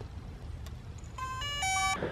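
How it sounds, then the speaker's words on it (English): DJI Mavic Pro drone powering on, a short run of rising electronic beeps close by, stepped tones near the end over a faint low background hum. "So turn on your drone."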